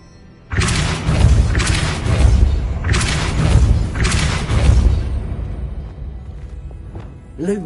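A Depulso spell blast in Hogwarts Legacy lets out a loud, deep booming rumble that surges in several swells over a few seconds, then fades with a faint whooshing tail.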